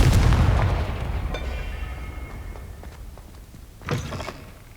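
In the video game Hogwarts Legacy, a Confringo spell blast booms loudly at first and fades into a rumbling decay, followed by a second, weaker impact burst near the end.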